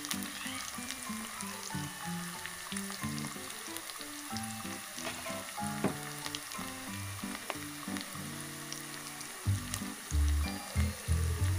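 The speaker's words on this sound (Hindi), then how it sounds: "तो चलिए अब प्याज फ्राई हो रही है" Onions sizzle and crackle steadily in a hot pan, a continuous frying hiss with occasional louder pops and stirring near the end.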